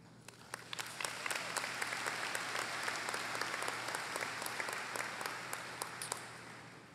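A graduation commencement crowd applauds steadily for the full stretch, a dense wash of many hands clapping with no talk, easing slightly at the end.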